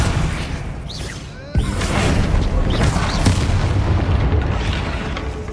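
A Bombarda spell explosion in the video game Hogwarts Legacy gives one sudden loud boom, then a sustained rumbling roar with scattered crackles over ambient game sound.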